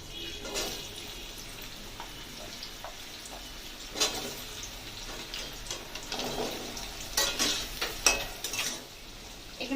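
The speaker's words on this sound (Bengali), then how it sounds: "পেঁপেগুলোকে ভেজে নেব।" Papaya pieces fry in hot oil in a home kitchen, a soft sizzle broken by scrapes and clinks of a spatula stirring in the pan, several short bursts of louder scraping.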